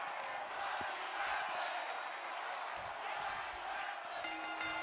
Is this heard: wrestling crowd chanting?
yes